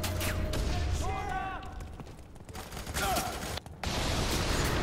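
Loud action from the video game F.E.A.R. 3 with bursts of gunfire and a booming explosion, dense and continuous, ending in a sharp cutoff before the noise resumes.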